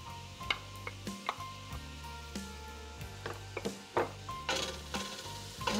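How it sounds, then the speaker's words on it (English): Cup of chopped onion hitting a hot pot for potato soup, sizzling steadily with repeated clanks and scrapes of a spoon stirring it around, close and clear without talk. "All right, put this onion in."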